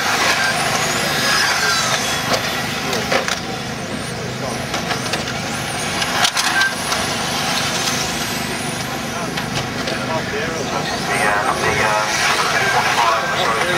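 Modified race cars running on a track during a heat race, engines droning and surging at fluctuating volume with a brief louder burst midway, heard alongside commentary.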